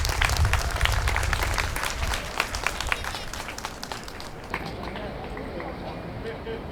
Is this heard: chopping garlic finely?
no